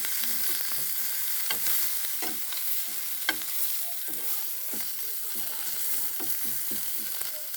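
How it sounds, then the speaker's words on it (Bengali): Red leafy greens frying with egg in a pan sizzle steadily throughout, with repeated scraping and clinking of a spatula stirring against the pan, and no talking. "দেখুন লাল পাতাটাও ভাজা হয়ে গেল"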